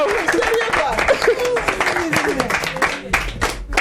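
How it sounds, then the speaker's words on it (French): An audience claps for Philo, the comedian Philomaine, on a French television magazine show, a steady patter of hand claps running under lively talk from a presenter. "Applaudissez pour Philo, s'il vous plaît."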